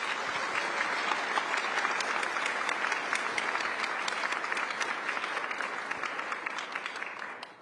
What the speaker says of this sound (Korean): 대통령님과 여사님께 뜨거운 환영과 감사 박수 부탁드리겠습니다